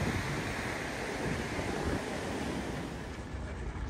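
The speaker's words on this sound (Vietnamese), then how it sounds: "Mình thấy gió vậy là mình biết sóng nó mạnh rồi." Strong wind buffeting the microphone over rough ocean surf, a loud, steady roar of waves and gusts that eases slightly toward the end.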